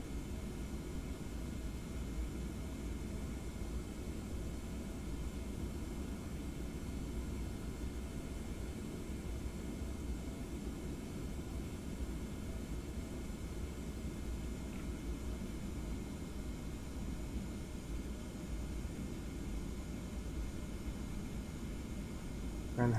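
Boeing 717-200 rear-mounted jet engines at a Delta airliner's taxi power, a steady broadband roar heard from inside the aircraft, unbroken and constant throughout with no speech.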